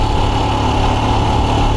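Royal Enfield Scram 411 motorcycle engine running steadily on a ride along a gravel route, a constant close, loud drone with no pauses or talk.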